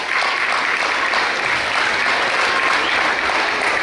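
Steady, loud applause from an audience at a preschool graduation ceremony. It sounds like a dense crowd clapping continuously, without pause, for the whole stretch.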